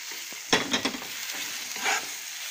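Grated onion hitting a pan for a savory toasted-flour dish, giving a sharp burst of sizzle with a few stirring scrapes, then a steady soft frying hiss close by with no talking.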